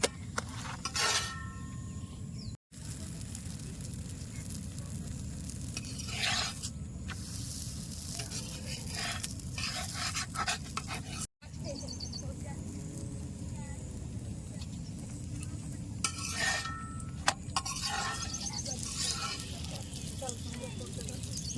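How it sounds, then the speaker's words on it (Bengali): Continuous hissing sizzle of sattu paratha frying in white oil, with occasional scraping and clattering from the pan throughout. "পরোটাটা আমি সাদা তেল দিয়ে ভাজছি"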